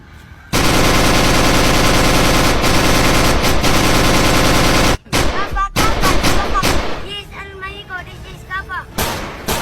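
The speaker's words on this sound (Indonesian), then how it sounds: "Aksi baku tembak antara petugas kepolisian dan kelompok perampok berlangsung 6 jam" In a shootout between police and armed robbers, loud continuous heavy gunfire lasts about four seconds. It breaks off abruptly into scattered bursts, shouts and voices.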